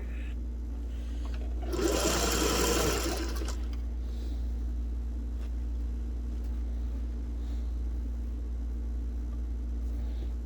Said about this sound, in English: And then I'm going to back stitch to really lock that in.